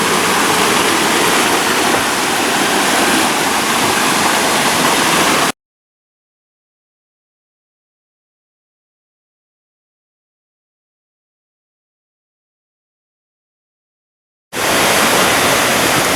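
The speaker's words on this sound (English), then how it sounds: "Up ahead here is the end of the Leura Cascades and one of the loveliest spots of the walk." The Leura Cascades waterfall pours in a loud, dense, continuous rush, cut off by a long stretch of silence before the roar returns.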